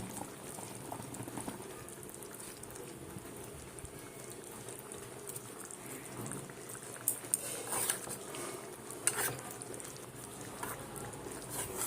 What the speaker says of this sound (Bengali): একদম নামানোর আগেই বড়াগুলো দিচ্ছি।